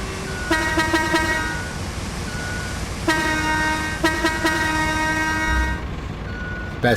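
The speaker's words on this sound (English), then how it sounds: "Like the air horn thing." A loud, brassy air horn sounds in a run of short rapid blasts, then longer sustained blares, close and prominent over a rough, noisy background.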